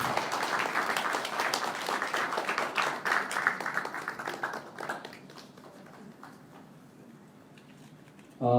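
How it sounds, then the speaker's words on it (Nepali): Audience applause at a Nepali community convention in New York: loud, dense clapping that gradually thins and fades over several seconds, ending with a brief sharper sound at the close. "सबैजनाले जोरदार ताली बजाइदिनु म हार्दिक अनुरोध गर्न चाहन्छु"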